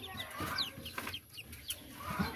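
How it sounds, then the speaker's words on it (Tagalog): Several small chicks peep in short high chirps scattered across a brief moment, close by and moderately quiet, among faint farmyard noise. "Daming sisiw."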